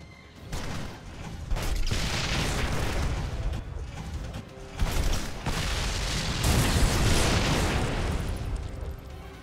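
Rocket launcher explosions in a video game, heavy booming blasts rolling one into another in a dense, continuous rumble, loud and close, with brief surges of fresh detonations.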